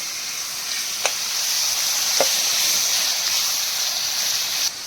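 Clams fry with garlic and onion in a pan, giving a steady, close oil sizzle throughout with a few brief sharp ticks and stirring knocks.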